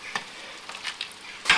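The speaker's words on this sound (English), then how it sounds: "With the cornstarch added to the boiling water, boiling gravy." Giblet gravy thickened with cornstarch bubbles and sizzles in a pot as it is stirred, with soft scraping strokes and a louder stir at the end, close and without talk.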